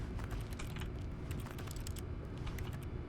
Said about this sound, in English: I just noticed the use button, when you hit it, it sounds suspiciously like hitting keys on a keyboard